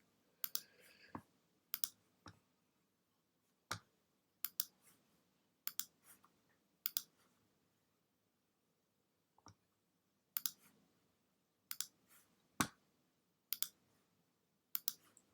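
Computer mouse clicking one item at a time, sharp isolated double clicks spaced a second or two apart, close and quiet against a silent background.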